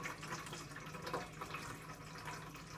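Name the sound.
pouring water for chapati dough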